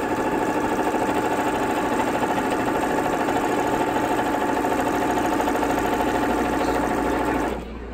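A sewing machine couches wool yarn in place while quilting, its steady mechanical whir running close and constant for most of the stretch before it slows and drops off at the very end.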